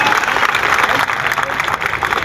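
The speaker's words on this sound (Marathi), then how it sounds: "एकदा जोरदार टाळ्या त्यांच्यासाठी वाजल्या पाहिजे" Audience at a bodybuilding competition in Shirdi clapping loudly and steadily, a dense burst of applause close by with crowd noise mixed in.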